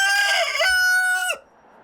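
A chicken at a pet and feed supply store gives a single loud, close, drawn-out crowing call that cuts off abruptly, leaving quiet room noise behind.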